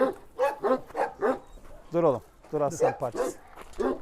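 A dog barks and whimpers close by in short repeated bursts, mixed with people talking and calming it.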